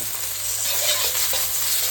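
Ho fun noodles with beef stir-fried in a wok over high heat, a loud continuous sizzle with scraping and tossing of the noodles, close up and without talk.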